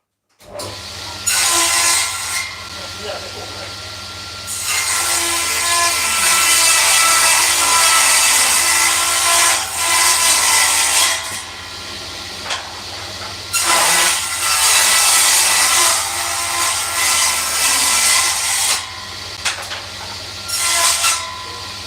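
A power saw rips a wooden board into strips, several loud sustained cutting passes separated by short pauses and motor hum, close up and without talk.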